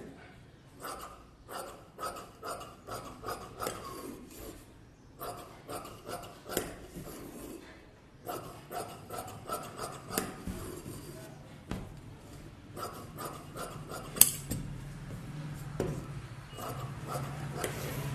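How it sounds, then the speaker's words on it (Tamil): Scissors cut through the front piece of a size 46 blouse fabric in quick, rhythmic snips. The crisp cuts come close up in short runs with brief pauses between them, and a quiet background runs underneath. "இப்போ வந்து நான் ஃப்ரண்ட்டை கட் பண்ணி எடுக்கிறேன்"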